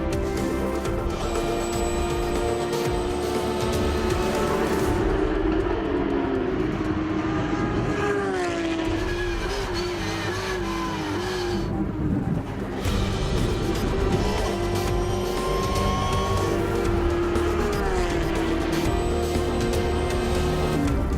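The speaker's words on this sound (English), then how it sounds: "Glengetty puts pressure on Charlie Friens for another podium position, but Friens won't let it go easy" Porsche GT3 Cup race cars battle around the Bahrain International Circuit, engines screaming continuously and loud with rising and falling pitch sweeps as they accelerate, shift and pass, no speech over the dense racing roar.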